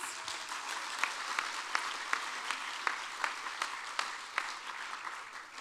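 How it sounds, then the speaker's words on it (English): Audience applause at a youth of the year celebration event, a steady wash of clapping from a crowd, fairly quiet and distant, with a few sharper claps standing out, no voices over it. "Another round of applause, please."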